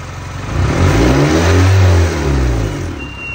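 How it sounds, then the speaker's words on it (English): A car engine with a smoking turbo is revved, swelling to a loud peak and then dropping back toward idle as the throttle is released, close by. "Przygazuj trochę i puść."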